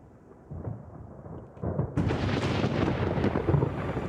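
Violent thunderstorm breaking out over the Grand Canyon wilderness: low rumbling builds in waves, then a loud, broad crack of thunder rolls on with steady roaring, and no voices are heard.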